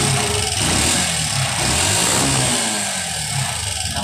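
A Honda TMX 125 Alpha motorcycle engine with a slipping clutch lining revs hard and close, holding a loud sustained drone that wavers slightly in pitch without the bike pulling away.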